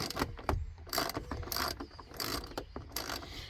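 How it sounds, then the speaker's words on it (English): A hand ratchet loosening a bolt on a Jeep JL mirror mount, heard as fast, close metallic clicking in a steady rhythm with short pauses between strokes. "then you just take your ratchet and just loosen this bolt"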